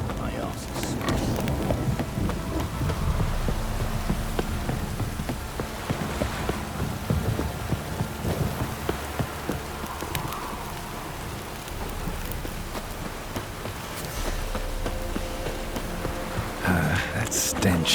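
Steady rain pattering continuously in The Witcher 3, fairly loud and filling the scene, with occasional low rumbles and a voice speaking over it at times.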